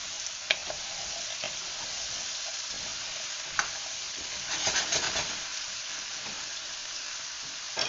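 Butternut squash cubes seasoned with salt and pepper sizzle softly in fat as they are stirred in a pot, with scraping clicks of the spoon and steady quiet frying hiss.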